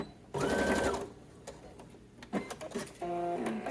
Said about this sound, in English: Here I am just sewing them together.